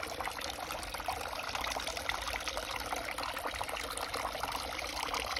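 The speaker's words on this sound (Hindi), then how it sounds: "जैसे ही झरने का पानी गिरना शुरू हुआ है" Water from a small pond waterfall with a bio filter pours steadily into the pond, a continuous soft splashing and trickling wash that stays even and fairly faint from start to end.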